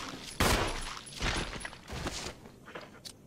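Several gunshots fired at enemies in Resident Evil Remastered, spaced irregularly with short echoing tails, fairly faint overall.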